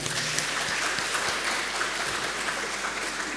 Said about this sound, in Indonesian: Kita kasih tepuk tangan sekali lagi ya